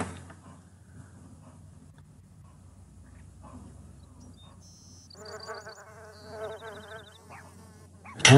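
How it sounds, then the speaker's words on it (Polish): Flies buzz continuously through a scene in The Sims life-simulation game, a thin whining drone joined by brief game chimes, with a loud burst at the very end. "muchy unoszą."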